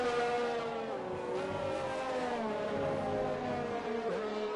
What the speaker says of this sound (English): Why do they have to have that revving glitch?